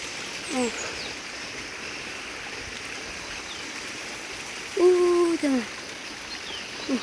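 Water rushes steadily along an irrigation channel in a constant close wash, while voices speak briefly partway through.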